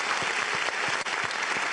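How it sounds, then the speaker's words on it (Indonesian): A crowd claps steadily for a couple of seconds at a launch event, dense applause filling the room without a break. "boleh beri tepuk tangan untuk kita semua pada sore hari ini"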